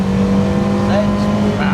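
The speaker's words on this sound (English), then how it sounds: "Hit fourth, starts to pick up." A VW Golf Mk1 Cabriolet, nearly 40 years old, pulls hard in fourth gear, its engine note steady and close with a faint rising whine, under a voice speaking over it.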